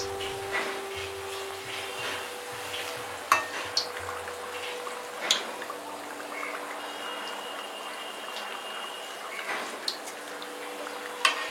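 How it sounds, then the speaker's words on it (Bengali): Kolkata street-style potato chops (alur chop, potato fritters) frying in hot oil give a steady, dense sizzle with scattered crackles and occasional sharper pops, close and continuous throughout, with no talking. "নতুন চপ তেলে ছাড়ুন। কয়েক সেকেন্ড পর তুলে রাখা চপ দুটো তেলে পুনরায় ছেড়ে দিন।"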